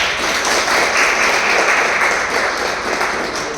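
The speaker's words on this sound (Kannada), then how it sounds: "ಅದಕ್ಕೂ ಸಹ ನಮ್ಮ ಜಿಯೋಗ್ರಫಿ ಸರ್ಗೆ ಒಂದು ಚಪ್ಪಾಳೆ ಬರಬೇಕು." An audience applauds the geography teacher at a coaching institute's felicitation event, with steady, dense clapping that stays loud from start to finish.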